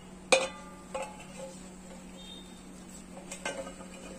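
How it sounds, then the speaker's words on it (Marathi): A few light metallic clinks and taps of a slotted spoon against a steel plate as fried triangular khari puris are lifted out of hot oil, under a faint steady hum, with no talk. "तळलेल्या पुऱ्या प्लेटमध्ये काढून घेत आहे।"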